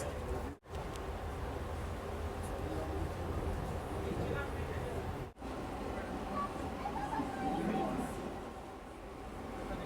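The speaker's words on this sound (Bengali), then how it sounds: "ট্রেন ছেড়ে দিল।" A Vande Bharat train rolls along the rails near Reasi in Kashmir with a steady low rumble and rattle, broken by two brief dips in the noise.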